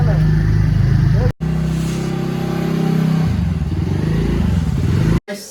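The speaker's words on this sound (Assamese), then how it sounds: "বাবু আজি স্কুটাৰ চলাইছে" A motor scooter ridden by a child gives a steady, close mid-pitched engine drone with slight revving, broken by two brief silent gaps, while people talk over it.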